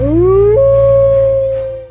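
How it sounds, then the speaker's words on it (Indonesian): A single wolf howl, loud and close, rises quickly to a long sustained tone and then slowly fades over about two seconds, heard alone. "Serigala bisa melolong dan suaranya bisa saja terdengar hingga jarak belasan kilometer."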